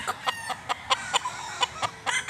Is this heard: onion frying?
no